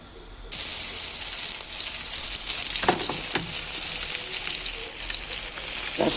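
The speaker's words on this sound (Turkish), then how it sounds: "Mezgiti kızartırken ve iyice kızdırılması lazım tavanın." Whiting fish fries in a hot pan, a steady close sizzle and crackle that starts abruptly and continues with occasional louder pops.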